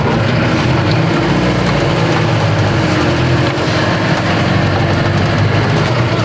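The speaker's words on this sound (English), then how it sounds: "There you can see the stringer cart in action" A stringer cart runs on a tiling job, giving off a steady, loud mechanical drone with a low rumble that holds unbroken from start to finish.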